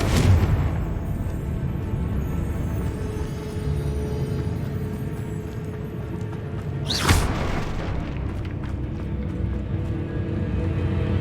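A Confringo spell explosion from the Hogwarts Legacy video game: a loud boom at the start and another sharp blast midway, over continuous game ambience and rumble.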